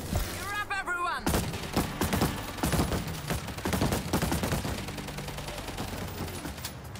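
Random bursts of gunfire in the video game World War Z, sharp repeated shots and rapid automatic fire, loud and close, scattered across the clip with voices briefly heard at the start.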